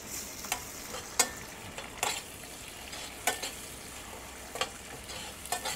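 Chopped tomatoes sauté in a pan, a soft steady sizzle broken by scraping stirs and clinks of a utensil against the pan at irregular intervals, close and fairly quiet.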